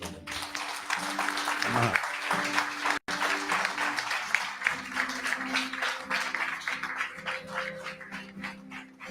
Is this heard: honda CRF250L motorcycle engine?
no